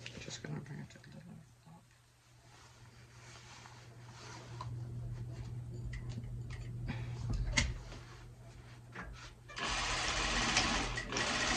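Sewing machine stitching elastic into a satin hair bonnet, running in steady bursts with short pauses and a louder, faster run near the end; no talking.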